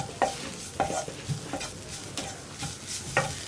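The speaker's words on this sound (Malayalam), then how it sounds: "ഇനി നമുക്ക് ഈ പൊടികളൊന്ന് കുക്കായി കിട്ടുന്നത് വരെ വീണ്ടും ഒന്ന് ഇളക്കി കൊടുക്കാം" Chili and spice powders cooking in a little oil over a low flame for a tomato curry, stirred with repeated soft scrapes against the pan over a faint, even sizzle.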